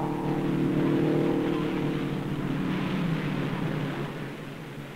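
A race car at the 1958 Indianapolis 500 roars down the straightaway, a loud sustained engine drone that holds steady, then gradually fades as it passes into the distance.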